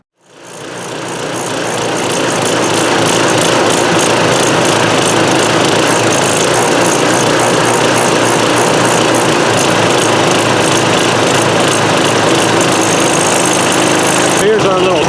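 A DR Powerwagon dump cart's small engine starts with a pull and quickly settles into a loud, steady, buzzy chatter that runs on evenly for about fifteen seconds close by.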